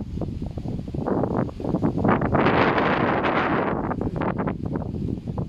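Steady wind noise buffets the microphone, swelling to a loud gust in the middle before easing back to a rough, continuous rush.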